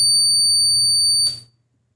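An electronic water level indicator alarm on a tank, sounding as a loud, steady high-pitched buzzer tone for just over a second before cutting off abruptly into silence.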